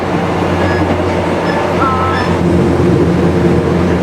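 A passing train gives a loud, steady rumble with faint squealing tones drifting above it, constant throughout at close range.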